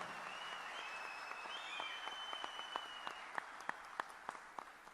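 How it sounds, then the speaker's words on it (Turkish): An audience at a political gathering applauds the chairman, a faint far-off wash of clapping with a few sharper individual claps standing out toward the end. "kocaman bir alkış istiyorum gene başkanıma"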